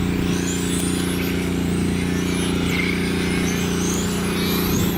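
Radio control car driving laps on an outdoor RC track, a steady high motor whine with tonal harmonics holding constant throughout, close and fairly loud, no talk.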